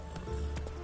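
A horse gallops in the video game The Witcher 3, giving a few quick, fairly quiet hoofbeats in under a second.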